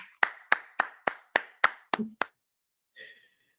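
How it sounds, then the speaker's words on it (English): Audience clapping at a town hall meeting on small business: about eight sharp, evenly spaced claps close by, stopping after two seconds and followed by a short faint tone. "The applause."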